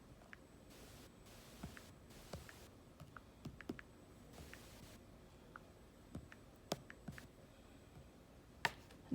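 Faint, sparse key clicks from typing on a computer keyboard, irregular light taps spread through a quiet room with low background hiss.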